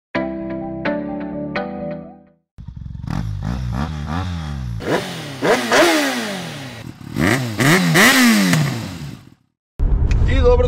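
Scooter engine idling, then revving in repeated rising and falling bursts, loud and close, with short pauses between runs.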